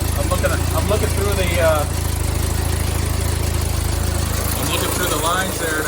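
A 1972 Fiat 850 Spider engine idles with a steady, close low rumble throughout, while a person talks over it.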